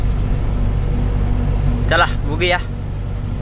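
A road vehicle on a delivery trip drives along with a steady low engine rumble throughout, while someone speaks briefly over the hum near the middle.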